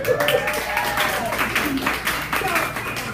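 A comedy-club crowd at the Sycamore Tavern in Hollywood applauds a stand-up comic with steady, dense clapping, while a voice talks faintly underneath.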